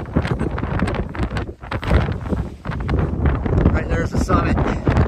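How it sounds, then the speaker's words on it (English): Strong gusts buffet a hiker's microphone near a mountain summit on the Appalachian Trail in Maine, a loud, continuous roaring rumble that swells and dips with each blast, with a voice faintly mixed in. "There's some pretty big gusts happening right now."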